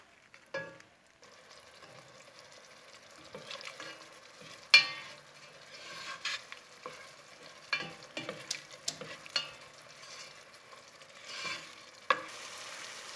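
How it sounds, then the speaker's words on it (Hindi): Masala for apple gourd (tinda) sabzi roasting in oil in a pot, with a steady low sizzle under irregular scraping and clanking stirs that peak now and then, close up and with no talking. "इसे आपने 10 मिनट और भून लेना है"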